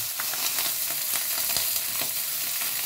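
Orata fish fries in hot oil in a pan with potatoes, giving a steady, even sizzle and hiss close by, broken by a few soft crackles and pops.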